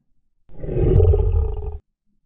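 A simulated stream donation alert sounds as a single loud roar-like burst lasting just over a second, abrupt in onset and cut off cleanly, with silence before and after.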